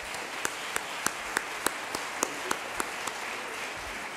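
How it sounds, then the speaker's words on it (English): At a chorus show, an audience claps along in a slow, even rhythm, about a dozen distinct evenly spaced claps over a soft background wash, fairly quiet and distant. "Please, a clap for them."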